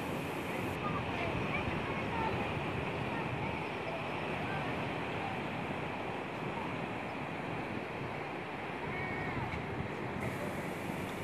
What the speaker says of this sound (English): This is Blair Fountain, a massive fountain and sculpture